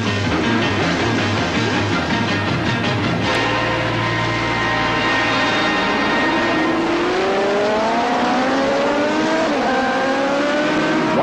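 Racing motorcycles roar off the start at Laguna Seca in 1979, a loud massed engine blare whose rising pitches sweep upward as the bikes accelerate away.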